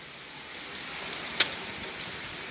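Heavy rain pours steadily as a dense, even hiss, with one sharp, louder drop or tap cutting through briefly partway in.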